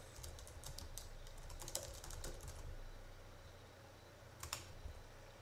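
Quick bursts of computer keyboard typing tap out a name at a desk, rapid keystrokes clustered in the first half, then a short pause and a final small flurry of clicks, all quiet and close.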